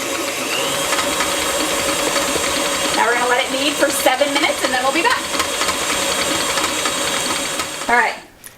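Stand mixer with a dough hook kneading cinnamon roll dough, a loud, steady mechanical whir with rhythmic clunking and straining under load, stopping abruptly near the end.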